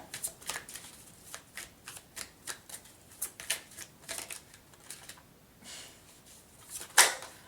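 Tarot cards are shuffled and drawn close by, a quiet series of crisp riffling bursts in a steady rhythm, ending with a sharper snap.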